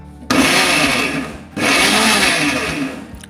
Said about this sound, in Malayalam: പൾസ് ബട്ടൺ യൂസ് ചെയ്ത് അരച്ചെടുക്കുക